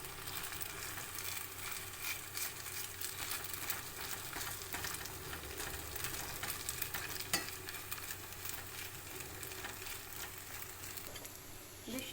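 Maggi noodles being pressed into shape in a frying pan for a Maggi pizza, a soft continuous sizzle with light scraping and stirring, no talking.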